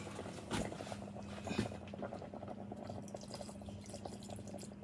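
About a cup of water pours and splashes steadily into a baking dish of peach and strawberry cobbler, a soft continuous trickle heard up close and fairly quiet.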